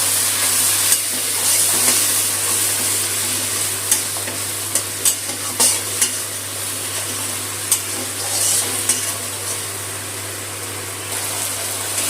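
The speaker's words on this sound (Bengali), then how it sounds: "দিয়ে মশলাটা দিয়ে আর একটু কষিয়ে নেব" Spiced masala with milk and cashew paste frying in a pan for a Bengali milk-and-catla fish dish, a continuous close sizzle broken by repeated spatula scrapes and clicks, over a steady low hum.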